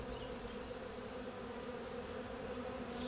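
Honey bees buzz in an opened hive during an inspection, a dense, low continuous hum from many insects, fairly faint and unbroken with no talking.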